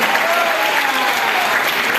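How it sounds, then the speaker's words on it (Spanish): A church congregation applauds during a revival service in Panama, a loud, dense, continuous burst of many hands clapping close by, with faint crowd voices mixed in. "Si ese aplauso es para mí, está perfecto."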